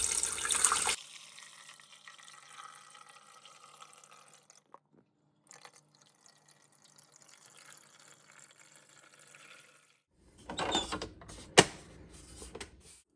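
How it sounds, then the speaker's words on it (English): Cold water pours and trickles into a Breville espresso machine's water reservoir at close range, with quieter fiddling in between and a louder gush near the end. "we're gonna fill up this water reservoir with some cold water"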